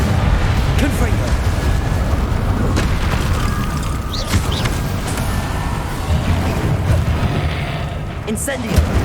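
Repeated explosive spell blasts from Hogwarts Legacy on PS5, heavy booming bursts layered over continuous battle noise and spoken voices, dense and loud throughout.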